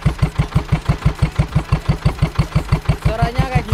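A motorcycle fitted with a CJDW aftermarket exhaust idles up close, producing a steady, deep, lumpy pulse of evenly spaced exhaust thumps that carries on without pause.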